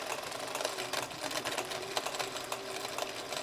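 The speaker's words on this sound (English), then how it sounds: "Just like any darning machine, back and forth." A Singer 177-2 darning sewing machine stitches steadily, its fast, even needle clatter and motor whir running continuously up close with no talk.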